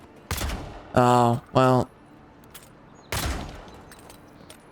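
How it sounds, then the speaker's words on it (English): Pistol shots in the video game Avowed come as two sharp, fairly loud bursts a few seconds apart, with a short spoken remark between them. "I kind of want to test out this pistol here."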